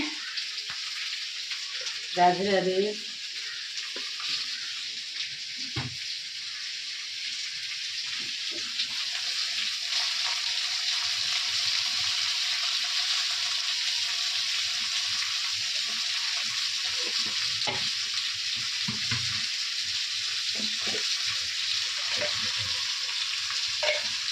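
Potatoes frying in oil with spices, a steady close sizzle with intermittent stirring knocks and scrapes, and a brief voice early on.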